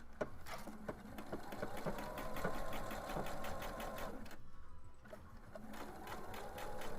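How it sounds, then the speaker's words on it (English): A sewing machine runs a straight stitch in fast, steady needle strokes, with a short pause partway through before stitching resumes, close and alone. "So we're gonna do just a straight stitch to begin."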